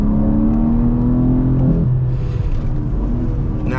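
A 2023 BMW M2 with traction control on pulls hard in first gear, its engine note climbing steadily and loud close by before a brief dip and continuing roar.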